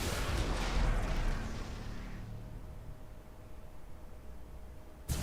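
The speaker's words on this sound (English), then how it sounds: "then I can turn around to use the broadside cannons" Broadside cannon fire from warships in the space strategy game Battlefleet Gothic Armada 2 erupts as a loud rumbling blast that decays into a fading roar, with a sharp new burst right at the end.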